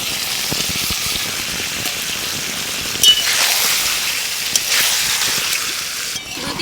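Water splashed into a village cooking pan to rinse off spices makes a loud, continuous hissing patter like pouring liquid, with no talking over it.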